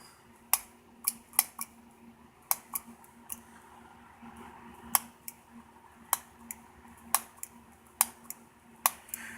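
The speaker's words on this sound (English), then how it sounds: "You just keep on pushing it. Just going to hear a clicking sound." A camera being reset by repeatedly pushing a button, producing a string of sharp, crisp mechanical clicks at irregular intervals, close up over a quiet background hum.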